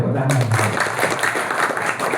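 An audience at a hajj preparation lecture breaks into applause, a dense wash of overlapping clapping that follows a brief spoken voice at the start and continues steadily at moderate loudness.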